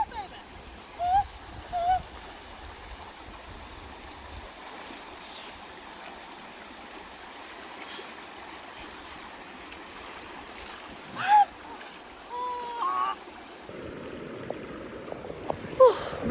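Water streams and splashes steadily as someone wades across a cold mountain river during a bike tour in Turkey's Taurus Mountains, with brief voices breaking in now and then over the constant rushing flow.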